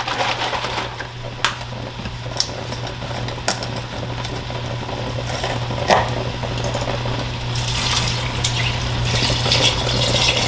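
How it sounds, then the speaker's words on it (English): Chicken broth pours into a gumbo pot in a continuous liquid stream over a steady low hum, punctuated by a few sharp clicks and taps. "Go ahead and put in our chicken broth."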